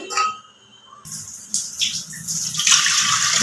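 Water poured into a pressure cooker holding potatoes and eggs, a brief clink followed by a rising gush and splash that grows louder toward the end, no talk.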